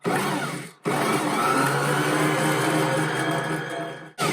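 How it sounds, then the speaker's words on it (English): An electric mixer creams cream cheese and sugar for a pumpkin cheesecake, a loud, steady whirring drone close up that cuts out briefly near the start and again at the very end. "We are just creaming that cream cheese and sugar mixture together."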